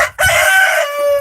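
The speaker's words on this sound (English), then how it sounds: "I got several roosters." A free-range rooster gives one loud, close crow, a bright drawn-out call lasting about a second, alone in a farm pasture.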